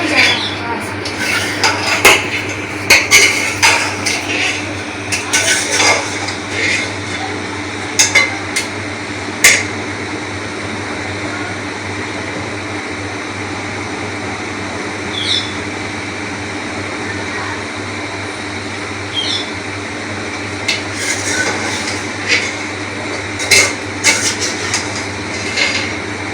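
Ingredients for Sindhi pulao are mixed and fried in a pot, with scattered metallic scrapes and clinks of a spoon against the cookware over a steady background hum, some strikes sharp and close, others softer.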